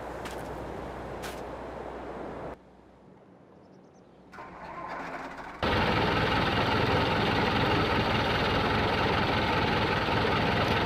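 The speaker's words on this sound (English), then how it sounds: "Patrick across the street, her tractor, quiet compared to Merrick's." A tractor engine in Farming Simulator 22 cranks and starts, drops briefly quieter, then settles into a loud, steady idle rumble for the remaining seconds, with no talking.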